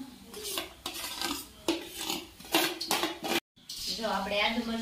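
Dal vada batter is stirred and mixed in a bowl with a spoon, giving repeated scraping and clinking strokes close to the microphone, heard under a person talking, with a brief pause near the end.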